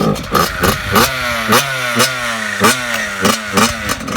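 A Yamaha motorcycle engine runs and is revved repeatedly, close and loud, with rhythmic throttle blips rising and falling in pitch about twice per second.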